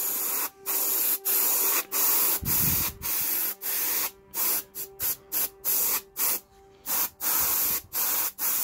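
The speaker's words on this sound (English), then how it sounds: "If anyone's interested what airbrush you use, which is an Iwata HPCH." An Iwata HP-CH airbrush with a 0.3 needle sprays paint onto a black Forge World Custodes Caladius Annihilator grav tank model in repeated short hissing bursts, close and loud, separated by brief pauses as the trigger is worked.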